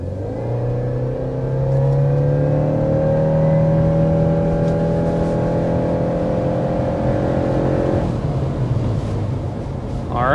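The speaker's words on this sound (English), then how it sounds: "let's start out with a hard acceleration" A 2026 Subaru Crosstrek hybrid accelerates hard toward 60 mph, its engine note climbing steadily in pitch for about eight seconds before easing off, with road and wind roar underneath.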